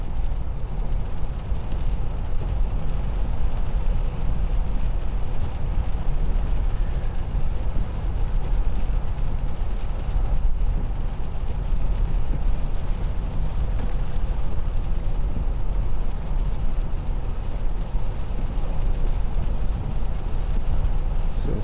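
A 2016 Mercedes-Benz E220 in steady motion on a wet, miserable day, with a constant broadband road and engine drone from inside the cabin; the shift into seventh is smooth and barely stands out from the continuous hum.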